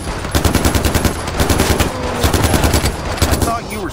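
Rapid machine-gun fire from a vehicle in the video game Far Cry 4, a loud close stream of quick repeated shots throughout, with some voice activity mixed in near the end.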